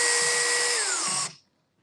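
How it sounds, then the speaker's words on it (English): A power drill runs steadily at high speed driving a screw into a pipe for a dog grooming arm, its whine dropping in pitch partway through before cutting off abruptly into silence. "Now I'm going to screw this one in."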